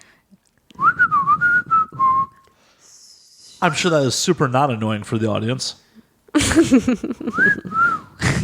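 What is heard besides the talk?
person whistling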